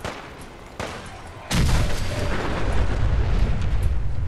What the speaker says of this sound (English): So this is a popular spot for my nuclear grenade.